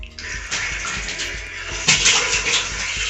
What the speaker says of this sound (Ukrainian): Водичка пішла.